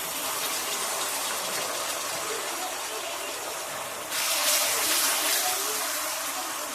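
Onion paste dropped into hot oil in a pan for a spicy potato curry, a steady loud broadband sizzle that surges brighter partway through, close up, with no talk.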